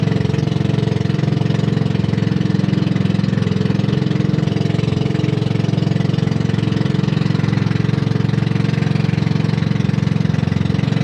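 A loud engine runs steadily at a constant idle with a deep, even hum and fast regular pulsing, with no change in speed across about eleven seconds.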